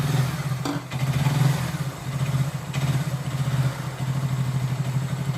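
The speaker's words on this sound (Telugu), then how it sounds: "ఒకసారి అయితే ఇంజన్ సౌండ్ అయితే వినండి" A Hero Glamour BS4 motorcycle engine running after a full engine refit by a village mechanic, a steady low idling hum with a faint mechanical clatter, heard close and alone.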